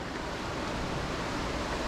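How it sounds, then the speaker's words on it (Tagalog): A mountain stream rushes steadily at a hidden nature spot in Ataki, Benguet, its broad, even hiss of flowing water filling the short stretch without pause or voices. "naririnig ko na naman yung aligasgas ng tubig dito napakaganda nakaka-relax"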